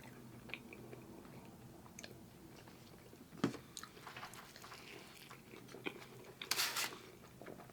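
Crunchy chewing and biting of a grilled cheese sandwich from Moe's, close and quiet, with a few louder crunches standing out against a soft background.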